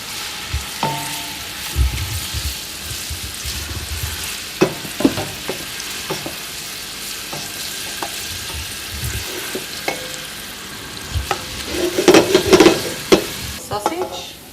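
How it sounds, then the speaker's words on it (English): Whole cored garlic cloves and fresh bay leaf sweat in a warm pan for Italian cooking, giving a steady soft sizzle broken by scattered clatters of stirring that grow busier toward the end. "whole garlic cloves that the core have been removed, and some fresh bay leaf, and sweat that off."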